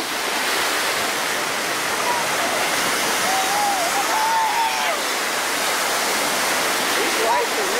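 Ocean surf at Myrtle Beach: a steady, loud, broad roar of breaking waves fills the whole stretch, with faint distant voices and a brief high call partly masked beneath it.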